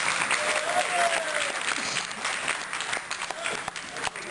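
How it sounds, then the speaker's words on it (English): Steady applause from a dinner audience at a harm-reduction event fills the room, dense and continuous, with a few faint voices underneath. "So give yourself a round of applause first."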